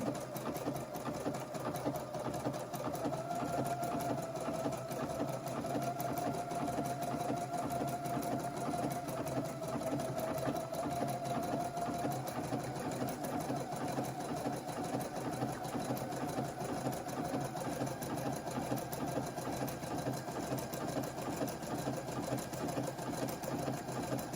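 An embroidery sewing machine stitches a cottage-design tea towel with a steady, close mechanical whir that runs unbroken throughout, with no talking.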